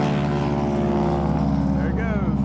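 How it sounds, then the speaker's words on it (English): A North American AT-6 trainer plane drones past with a loud, steady propeller and engine roar, its pitch shifting slightly as it goes by, with voices talking over it. "That's a North American AT-6."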